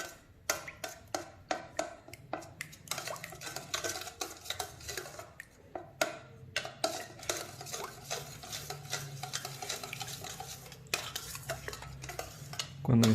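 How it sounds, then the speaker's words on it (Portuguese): A utensil stirs a homemade burger-bun batter of eggs and sugar in a bowl, making quick rhythmic scraping and tapping strokes that run steadily throughout, close but fairly quiet, with no voices. "Após adicionar os ovos, misture bem até virar uma mistura homogênea."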